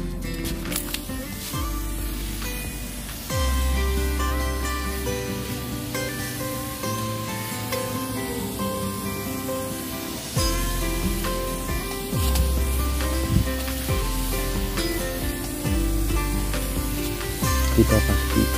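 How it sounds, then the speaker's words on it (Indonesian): A sprayer mists fungicide over 35-day-old oil palm pre-nursery seedlings, a close, steady hiss that comes in repeated bursts over a low background hum, with quiet talk at times. "Kita pastikan agar semua bibit ini dapat tersemprot rata"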